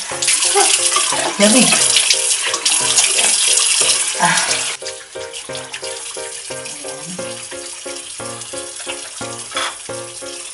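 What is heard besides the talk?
water running from a tap while washing face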